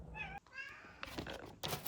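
A pet cat meowing twice indoors, two drawn-out, fairly faint cries close by, followed by a few soft thumps and a brief muffled sound.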